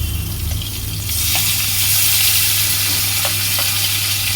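Tomatoes go into hot oil already tempered with cumin seeds, bay leaf and onion for a light rohu fish curry, a loud, steady close-up sizzle that swells as they land and keeps crackling, with no talk.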